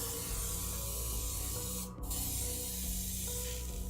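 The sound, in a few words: spray coat being applied to a miniature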